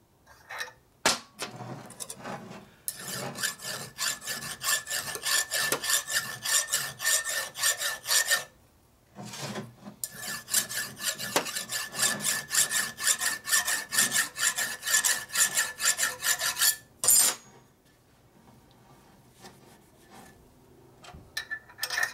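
Steady rasping strokes of a hand file working burrs off a damaged keyway on the pinion shaft of a 1990s Evo Sportster 90ci big bore engine, in two long continuous bursts with brief pauses, close and fairly loud.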